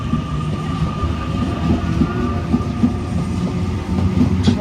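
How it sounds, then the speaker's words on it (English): A train pulling out of the Broadmeadow station platform in Newcastle, a steady loud rolling rumble with rail clatter and a faint high hum, continuous throughout with no voices. "I'll tell you the trailing set once the train departs"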